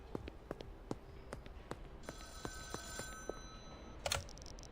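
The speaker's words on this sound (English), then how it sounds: "Let's quickly answer the payphone." A payphone rings in the video game Schedule I, faint repeated trilling tones under a steady patter of soft clicks, ending in a brief brighter burst, very quiet overall.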